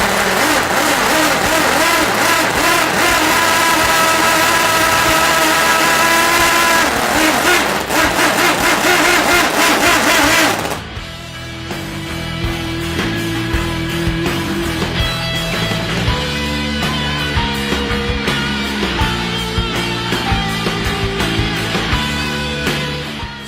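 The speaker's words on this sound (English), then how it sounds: "first I'm going to start this up to show you just how crazy this little engine sounds" A small rotary engine fires up and runs, a loud, buzzing, high-revving roar for about ten seconds that then drops abruptly to a steadier, lower idle with rattly pulsing.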